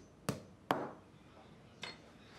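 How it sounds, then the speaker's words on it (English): A hammer striking a wall plug into a wall, three sharp separate knocks, the first two close together and the third after a pause, each fading quickly in a quiet room. "Hit the wall plug home."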